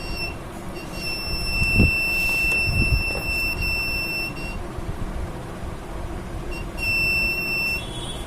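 A steady electronic buzzer tone from a homemade laser security alarm circuit sounds for several seconds, cuts out, then returns near the end, over a constant background hum with a couple of soft knocks.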